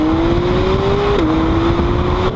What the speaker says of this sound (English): It takes that intake noise and actuates how much sound is passing through and then pipes it into the firewall right behind your